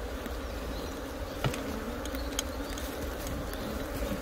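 Honey bees buzz steadily around an open hive colony during a canola-season split, a continuous close droning hum with brief knocks and clicks from handling the frames.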